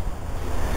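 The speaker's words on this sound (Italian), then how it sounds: "e tira un gran vento come oggi" A strong wind blows through a park in Lyon, a loud, low, rumbling gust buffeting the microphone with a steady roar that swells toward the end, with no one speaking.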